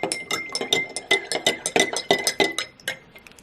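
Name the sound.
stirring pink lemonade drink mix from an MRE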